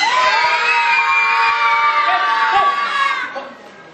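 A crowd of children shouts together with joy at a live 3D show, one loud sustained burst of many young voices that fades toward the end.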